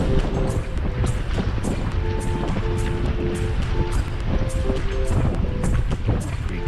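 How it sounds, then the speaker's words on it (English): Wind gusting off a lake while cycling the Chain of Lakes trail around Lake of the Isles in Minneapolis, a steady low buffeting rumble across the microphone that carries on unbroken throughout. "Pretty choppy wind coming off the lake."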